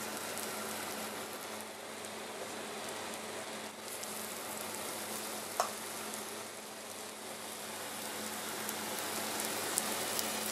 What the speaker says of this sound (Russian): Все, обжариваем до золотистой корочки